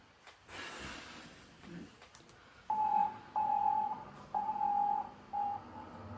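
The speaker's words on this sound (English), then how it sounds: "Listening to the final words of Komarov, combined with the beeps of nothingness, is horrifying in its own way" A series of four short, regular radio beeps over faint crackling static and a dim murmur, from Komarov's final radio recording.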